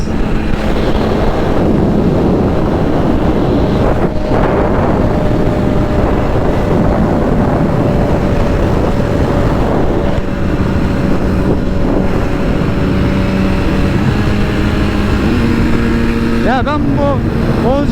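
A motorcycle races at around 310 km/h, with heavy wind roaring across the microphone and a high engine whine, loud and unbroken throughout, while a rider's voice speaks over it.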